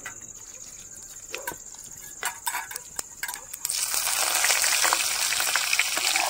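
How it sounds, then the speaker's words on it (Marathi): Cumin, mustard seeds and curry leaves crackle in hot oil for a tempering, starting with scattered pops and then swelling into a loud, dense, continuous sizzle close by. "इथं बघा तेलात जिरं मोहरी कढीपत्ता टाकून छान तडतडू दिला"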